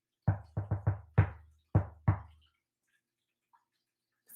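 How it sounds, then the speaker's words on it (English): Knuckles rap on a door in a friendly pattern, a quick run of four knocks and then two more, crisp and close, with silence afterward. "So you do the friendly knock again."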